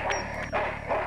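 A dog in the adventure video game Full Throttle gives a few short, loud barks close by in quick succession, alone without talk.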